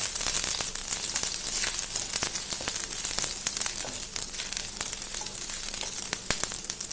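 Crushed ginger fries in hot coconut oil in a pan, giving a steady close sizzle with scattered sharp pops and crackles and no talk.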